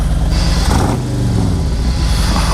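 A 2018 Harley-Davidson Road Glide Ultra V-twin starting up, loud and close, cranking into a deep rumbling idle that settles steadily after the catch.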